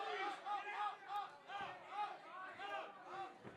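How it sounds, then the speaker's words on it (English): Crowd at a Shamrock FC MMA event cheers and roars on its feet, a loud sustained wall of voices rising in repeated waves with shouts and yells layered through it. "This crowd is electric right now. They are on their feet, Jeremy."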